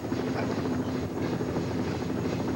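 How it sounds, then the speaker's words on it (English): Rhythmic chopping thrum of a helicopter, fairly loud and continuous, with no voices over it. "It's a helicopter."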